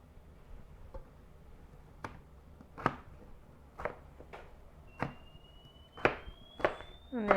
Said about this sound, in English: And there goes my kettle whistling in the background.